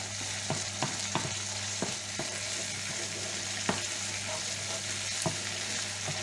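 Vegetables sautéing in a pan, a steady close sizzle with scattered clicks and scrapes of stirring throughout, no voices.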